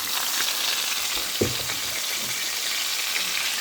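Kielbasa frying in bacon drippings, a dense, loud, unbroken sizzle with a single knock of a utensil partway through, close to the pan and without talking.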